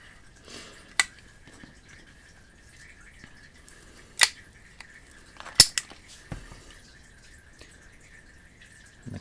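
A Crosman CO2 air pistol fires a few sharp, isolated shots a couple of seconds apart, close and crisp, over a quiet background with a faint steady tone and no talking.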